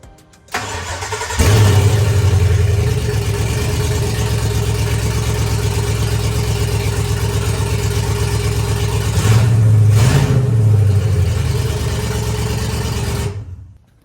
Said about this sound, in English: Finally, we got it running.